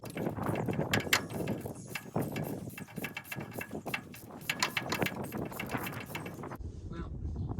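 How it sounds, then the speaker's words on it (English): A ratchet with a 13/16 socket works on the spark plugs of an engine parked for 43 years, giving repeated close metallic clicking and clattering bursts with a brief quieter stretch at the end. "And the old 13/16 socket for the spark plugs."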